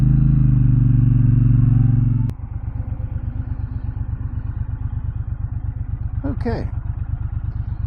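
A 2024 Triumph Bonneville Speedmaster motorcycle engine runs with a loud, steady low throb and a fast even pulsing beat. The sound drops in level partway through, and a voice speaks briefly over it.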